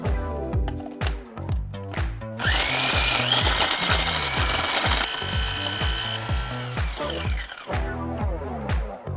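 A food processor blitzes pungent ingredients for spaghetti aglio e olio, starting with a few loud, close bursts before running in one sustained, harsh whirring roar that then pulses down again.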